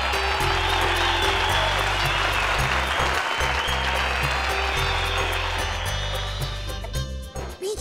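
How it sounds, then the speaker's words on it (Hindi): An audience applauds in a TV drama scene where judges have just awarded points, a dense, steady clapping that stays loud throughout with music underneath and fades near the end. "तालियां"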